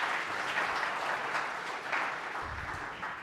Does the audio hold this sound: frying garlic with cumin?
no